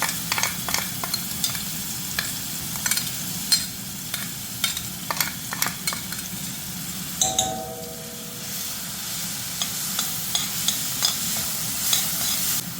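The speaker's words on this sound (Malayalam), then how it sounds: "ഒന്ന് ആ കളറൊക്കെ ഒന്ന് ഒരു ബ്രൗൺ ഷെയ്ഡിലേക്ക് മാറുന്ന വരെ ഒന്ന് ഇളക്കി കൊടുക്കണം" Blended paste for Kerala-style beans and carrot thoran sautéing in a pan, with a constant close sizzle and a run of quick scraping stirs, then a brief ringing tone partway through before the frying continues, no talking.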